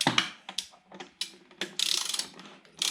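Torque wrench being adjusted to 7.5 foot-pounds, a close series of crisp ratcheting clicks in uneven bursts, loud and alone with no talking.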